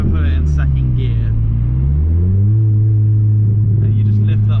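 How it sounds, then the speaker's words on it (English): The engine of a Ford Fiesta ST180 rises and holds in second gear, its deep droning tone climbing and then sustaining steadily, with someone talking over it at the start. "you just lift up the revs and then you go to about 4 grand and hold that throttle there a little bit"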